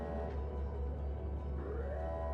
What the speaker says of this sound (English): we got to stand around for the siren.